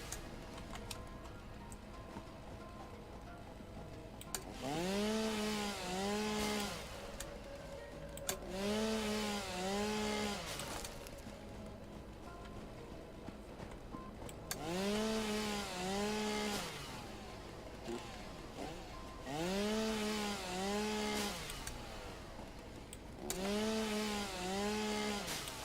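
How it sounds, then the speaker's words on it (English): Chainsaw cutting trees in the video game Satisfactory, repeated bursts of a revving two-stroke engine whine rising and falling, about five cuts spaced a few seconds apart over a quiet idle background. "That is a good chainsaw. Clears everything, not just what I'm pointing at."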